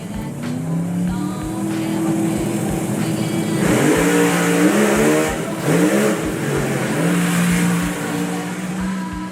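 Supercharged and turbocharged Pro Mod drag race cars, one from Germany, launch and run down the strip: loud roaring engines rising and falling in pitch through gear changes, close and continuous with no talk.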